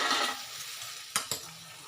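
Whole baby potatoes dropped into garlic chili paste frying on low heat, heard as a soft sizzle with two sharp clinks of a utensil against the pan, close and without talk.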